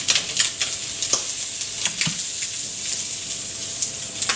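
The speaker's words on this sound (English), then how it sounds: "Thịt áp chảo." Meat sears in a hot pan in a home kitchen, giving a steady close sizzle and crackle with scattered sharp pops and an occasional stir throughout.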